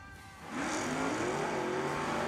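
A 1968 Chevelle launches at a drag race qualifying run, its engine roaring up sharply from idle into a loud, rising rev that holds strong and steady.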